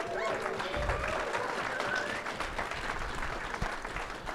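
Audience applause fills a Sorcery convention hall, steady dense clapping throughout with a faint voice carrying over the crowd noise.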